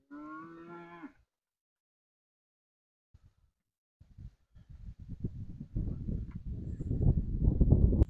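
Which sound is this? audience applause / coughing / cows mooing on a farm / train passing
cows mooing on a farm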